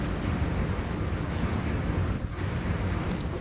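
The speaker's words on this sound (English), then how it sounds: "We are actually opening fire on them with a few of our matter disintegrators" Matter disintegrators fire on enemy ships in a Stellaris space battle, a dense, steady low rumble of blasts and crackle running throughout with no distinct separate shots.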